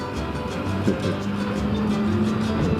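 A motorcycle engine drones steadily at close range while riding through bends, its pitch shifting slightly with the throttle, with continuous wind rush and no talk.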